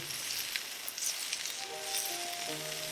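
Vegetables sizzling and frying in a cast iron pot with browned steak, a steady close hiss throughout with no one talking.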